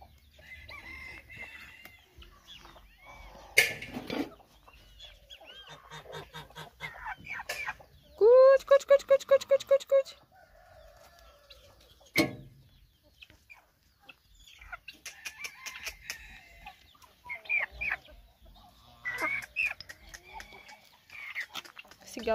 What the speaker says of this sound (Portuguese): Aqui é uma galinha.